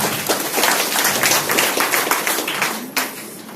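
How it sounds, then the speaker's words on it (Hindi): Loud applause from an audience at an office inauguration ceremony in Nawada, a dense continuous burst of clapping that swells and then tapers off with a few scattered final claps. "एक और जोरदार तालियां।"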